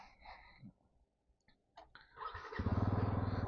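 A Bajaj Pulsar NS 400 motorcycle starts up after a few faint clicks, its engine catching and settling into a loud, steady, throbbing idle close by.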